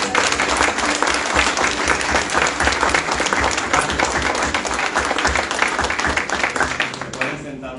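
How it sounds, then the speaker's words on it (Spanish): Loud, sustained applause from a church congregation at a Spanish-language Sunday service, dense clapping filling the whole stretch and fading slightly at the end. "déle ese aplauso fuerte al Señor"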